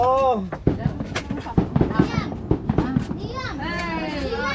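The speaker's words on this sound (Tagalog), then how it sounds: "Hey, naputukan na. Oh, fireworks." Rapid New Year's fireworks bangs and crackles pop in irregular bursts, with excited children shouting and talking loudly over them in Palawan.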